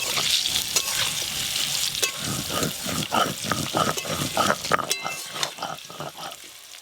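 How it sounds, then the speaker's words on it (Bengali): Potatoes fry in a pan while being stirred, giving a steady close sizzle broken by repeated scraping and stirring clatter, fairly loud, with no talk over it. "আলুগুলো খুব ভালো করে ভেজে নিয়েছি, এবার তুলে নেব।"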